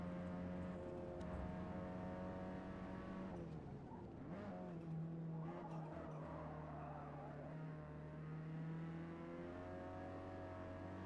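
A Ford Sierra Cosworth race car in Forza Motorsport, engine droning steadily with shifting revs and pitch changes as it drives on track, continuous and fairly close throughout.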